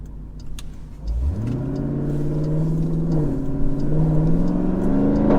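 A Jeep SRT Trackhawk accelerating hard on a highway, its engine climbing loudly and steadily through the revs, with a brief shift partway through and strong, continuous power to the end.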